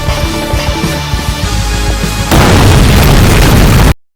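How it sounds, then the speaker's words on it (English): A video game explosion erupts abruptly over a rumbling background, a loud, dense roar that holds steady for about a second and a half before cutting off. "let's get out of here before the explosion"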